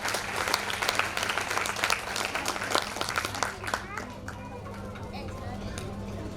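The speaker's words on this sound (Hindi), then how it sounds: "एक बार आप जोरदार ताली तो बजा ही सकते हैं।" An audience at a talk on Sanatan Dharma and world peace claps loudly for a few seconds, then the applause thins out and fades. A steady low hum sounds beneath it, along with some murmured chatter.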